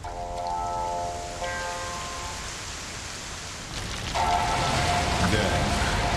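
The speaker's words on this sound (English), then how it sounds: "unleashing a torrent of rain." Rain pouring down in the video game Monster Hunter Rise Sunbreak: a dense, steady hiss of rainfall that grows heavier and louder partway through, with faint tonal game sounds layered underneath and no talking.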